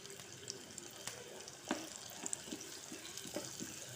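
Mustard seeds and chili powder temper in hot oil on a stove for a Kerala tomato, jackfruit seed and ground coconut curry, giving a steady close sizzle with scattered crackles and pops and no talking.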